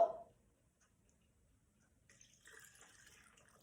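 Water poured into a one-pot pasta of pasta, minced meat and tomato sauce in a Tupperware bowl, heard as a faint, steady splashing hiss that begins about halfway through and continues alone to the end.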